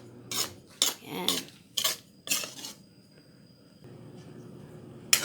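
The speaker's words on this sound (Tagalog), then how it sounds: "Kailangan halo-haluin para hindi masunog." Metal utensil stirring and scraping food in a cooking pot: several sharp clinks and scrapes at irregular intervals, close and fairly loud, then a quieter sizzling background.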